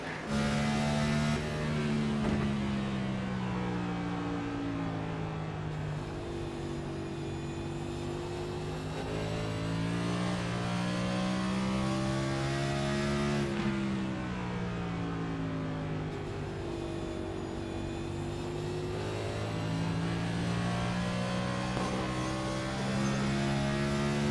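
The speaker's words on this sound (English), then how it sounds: "we take a ride inside the cockpit here with Mons as he leads the way, coming out to lap number 71 on the board." A race car engine screams at high revs from inside the cockpit during lap 71 of a race, loud and continuous, with pitch climbing and dropping through gear changes and braking zones.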